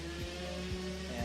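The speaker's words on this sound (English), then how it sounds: "That's my cousin over there on the dirt bike ripping through the road." A dirt bike rips along a road nearby, its engine note rising and falling in three quick revving passes over a steady low motor drone.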